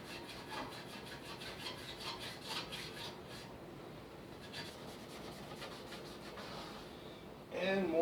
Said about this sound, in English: And more sand in little cracks and crevices